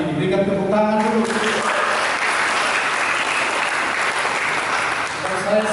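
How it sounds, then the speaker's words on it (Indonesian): Loud, sustained applause from a crowd, steady clapping filling the room, with a voice briefly audible at the start. "Kita tepuk tangannya, berikan tepuk tangan dulu."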